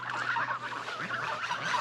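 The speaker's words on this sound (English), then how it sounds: "We wanted to try some out as dog geese." Geese on a homestead honk in a quick, busy chorus of nasal calls, close by and fairly faint over a low steady hum.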